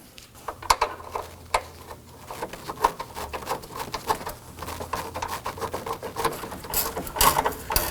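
Radiator mounting bolts are tightened on a 2018-2024 Toyota Camry 2.5L L4, with a steady run of fast, close ratcheting clicks that continues unbroken throughout.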